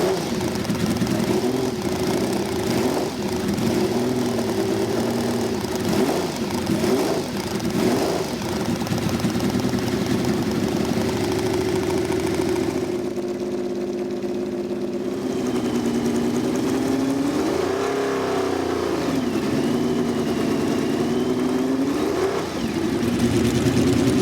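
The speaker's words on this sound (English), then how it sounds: "That flat 12 engine seemed endless. It just went on revving all the way through, as Mazzario would show us on occasions." A 1975 Alfa Romeo T33/12 race car's flat-12 engine revs hard and continuously, its pitch rising and falling through long sweeps, loud and sustained with a brief lull midway.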